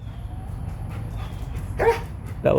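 A dog gives two short, sharp barks close by, the second coming about half a second after the first, over a steady low background hum.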